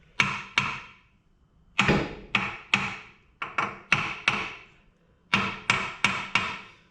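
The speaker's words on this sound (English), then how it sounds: "I prefer to hammer the outer race in" Steel hammer blows driving a bearing outer race onto an MGB half shaft, sharp ringing metallic knocks in clusters of two to four with pauses between, close and clear with no talking.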